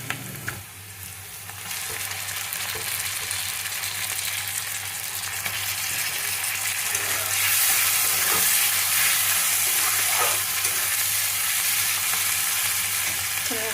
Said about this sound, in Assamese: এইফালে মাছৰ কণী ভাজাৰ কাৰণে মই জলকীয়া পিঁয়াজখিনি ধুনীয়াকৈ ভাজি লৈছোঁ। এতিয়া কণীটো দি দিম ইয়াতে।